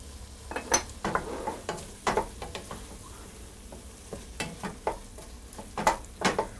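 Herbs sizzle gently in a pan while a utensil stirs them, with soft repeated scrapes and light clinks of metal over a steady low frying hiss.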